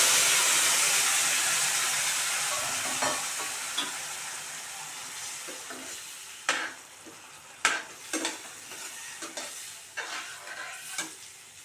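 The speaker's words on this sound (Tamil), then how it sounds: "இப்போ இந்த புளி கரைசலை ஊற்றிடலாம்" Tamarind extract poured into a hot pan for green chilli tamarind thokku: a loud hiss that slowly dies down, then scattered close spoon scrapes and clicks over a fading sizzle.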